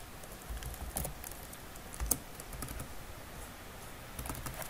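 Code being typed on a computer keyboard in Android Studio, with soft rapid key clicks in irregular bursts, faint and close in a quiet room.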